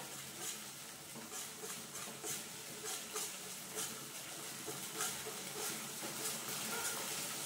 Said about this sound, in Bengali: কন্টিনিউ নাড়তে হবে যাতে আমার দইটায় কোনো প্রবলেম না হয়